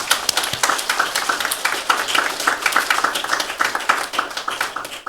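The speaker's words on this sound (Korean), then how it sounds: "우리 감사와 영광의 박수 드리겠습니다." Church congregation at a Korean Baptist Christmas thanksgiving service clapping together in a steady, rapid rhythm, a dense close wash of hands lasting several seconds.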